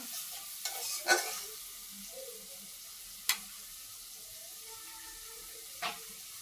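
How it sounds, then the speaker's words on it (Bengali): Spices being stir-fried in a pan for a soybean curry: a soft, continuous sizzle, faint and close, broken by a few sharp scrapes of a spoon against the pan. "মশলা ভালো করে কষাই নিব"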